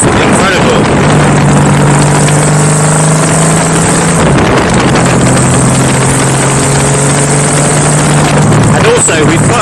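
A custom Honda Valkyrie bobber motorcycle runs loud and close, its engine holding a deep, steady drone throughout with slight shifts in pitch, and a few brief dips before it settles again.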